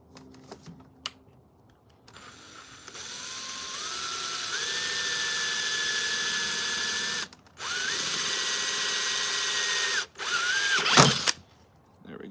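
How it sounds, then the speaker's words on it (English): A power drill whirs in two long sustained bursts while drilling a hole for a T-shirt cannon, the motor pitch climbing as it bores, followed by a brief rattling clatter at the end. "So I'm going to drill a hole right about"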